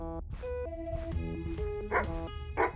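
Barking and yipping from dogs in a video game rings out over a steady musical game soundtrack, with a couple of louder bark bursts toward the end and no talking.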